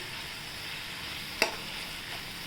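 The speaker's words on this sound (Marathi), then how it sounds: "आलं लसूण टाकलं जरा दोन मिनटं परतून घेऊया" Ginger garlic paste sautés in a pan with a low, steady hiss and one brief clink of a utensil midway, with no talking.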